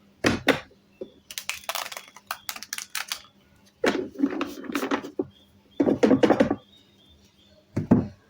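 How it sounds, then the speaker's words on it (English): Quick crisp clicking and riffling bursts come in clusters with pauses between, close and fairly loud, like tarot cards being shuffled by hand. "I'll just shuffle these cards for the next reading"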